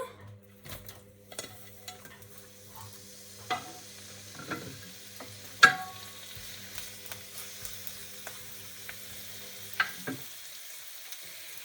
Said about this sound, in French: Je vais faire sauter un peu mes courgettes